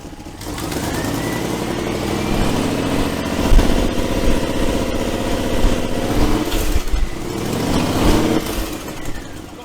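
A 1971 Range Rover engine, untuned, idles roughly and throatily for several seconds, with a few uneven surges and lumpy pulses in its low rumble.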